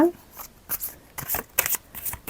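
A tarot card is drawn from the deck, heard as a series of short papery slides and flicks, close and crisp, with a voice speaking briefly at the start.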